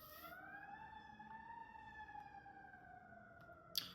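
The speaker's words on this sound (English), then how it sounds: "Yeah, I hear the sirens here." A single siren wails steadily in the distance, its tone slowly rising and falling, faint and alone with a sharp click near the end.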